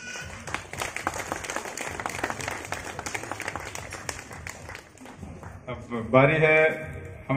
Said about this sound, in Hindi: लोग ताली बजाएंगे।